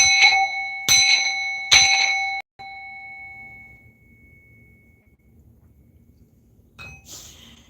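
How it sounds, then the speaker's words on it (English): Three quick strikes on a small ritual bell, each ringing out brightly, then one long, fading tone and a quiet pause before a fourth, softer tap near the end. There is no talking. "Let's tap this bell to remove all negative energies"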